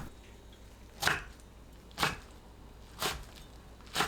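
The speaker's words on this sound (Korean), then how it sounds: "케일 뭉친 곳을 풀고 간추려서 2cm 길이로 썰어주세요" Knife chopping kale into 2cm pieces on a cutting board, four crisp evenly spaced chops about a second apart, close and clear over quiet background with no talk.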